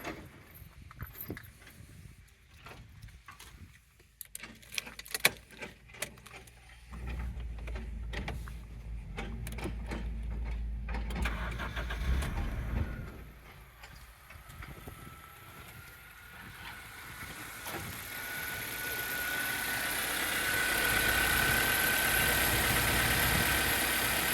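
A first-generation Honda CR-V (1997–2001) engine runs at idle: a low, moderate rumble with scattered clicks early on, easing into a steadier, hissy hum toward the end.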